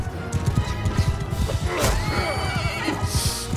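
A horse in Mount & Blade II Bannerlord neighs amid a battle, its whinny rising over rapid hoof clip-clops and clashing thuds, close and loud.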